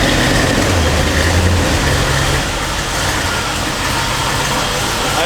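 A classic car engine idles steadily and loudly up close in a cold garage, a continuous low rumble with no voices over it.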